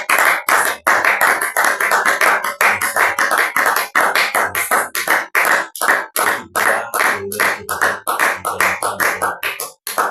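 A church congregation claps loudly and continuously during a prayer service, dense overlapping applause with a steady rhythmic beat throughout.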